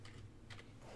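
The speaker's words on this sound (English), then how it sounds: "Install, I'm typing in the dark" Soft, quick keyboard clicks in a few short bursts, faint and close, with no talking.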